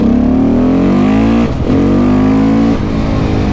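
KTM 690 SMC R single-cylinder motorcycle fitted with a Leo Vince exhaust, riding Dolomite mountain passes; loud, close engine drone climbing in pitch through the gears, with brief dips at two shifts before revving up again.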